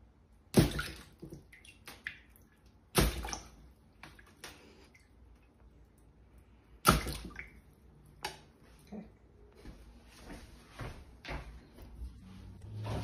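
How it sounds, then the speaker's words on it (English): A ball dropped from about six inches into water beside a floating aluminium foil boat makes three sharp, loud splashing impacts spaced a few seconds apart, followed by softer sloshing and dripping as the water settles. "This will be test number 2, dropping the ball 3 times."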